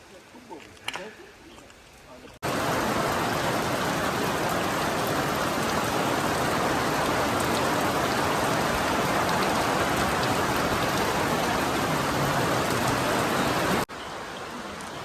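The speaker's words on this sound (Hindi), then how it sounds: "चलो जब तक बाहर बारिश हो रही है" Steady heavy rain falling outside near a glass house on a hillside in Sri Lanka, a dense even hiss that starts abruptly and holds for about eleven seconds.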